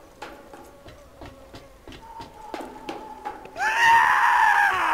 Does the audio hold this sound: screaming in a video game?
yes